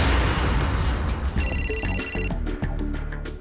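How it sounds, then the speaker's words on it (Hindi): A mobile phone ringtone trills steadily for about a second over a loud, dense background of music and noise, in a Hindi horror drama scene set in a cottage. "मोबाइल की रिंग बज रही है।"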